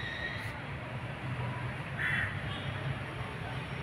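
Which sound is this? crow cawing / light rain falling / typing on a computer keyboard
crow cawing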